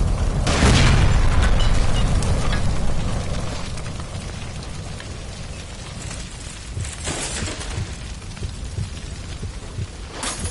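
A gas line bursts into a heavy explosion in the L.A. Noire video game after being shot. One loud, deep boom hits at the start, then fades into a rumbling, crackling tail of debris.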